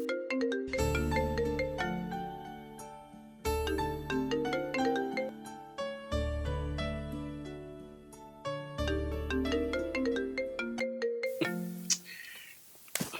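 A mobile phone ringtone plays a bright repeating melodic tune, loud and clear, cycling several times before cutting off abruptly near the end.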